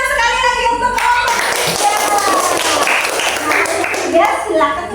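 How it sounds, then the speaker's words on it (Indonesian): Classroom applause for a student group after a presentation: a burst of clapping from pupils rises over a teacher's voice, with talking before and after the claps. "Tepuk tangan sekali lagi untuk kelompok"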